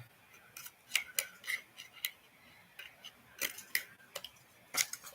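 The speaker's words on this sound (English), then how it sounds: "I'll cut this down a little." Scissors snip craft material down to size with a quick run of close, crisp clicks and cuts in irregular bursts. There is no talking, only a faint room hush behind the snips.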